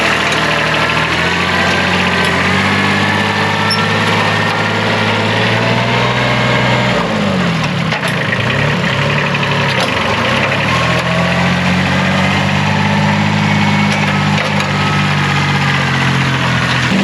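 Gear-drive tractor engine running in first gear with the clutch let out, a steady loud low rumble with a slight dip in pitch midway, continuous and close, no talk.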